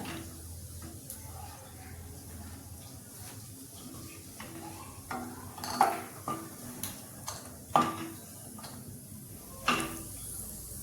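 Fried ingredients for ravva laddu are scooped from hot ghee and dropped into a bowl, giving a few soft metallic clinks and scrapes in the second half over a quiet room background.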